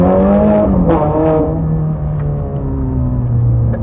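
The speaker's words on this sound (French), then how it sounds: "il y a le bruit de la voiture en direct" A car fitted with a Capristo straight-pipe exhaust drones steadily from close by, its engine tone rising and falling in pitch for a few seconds with no one speaking.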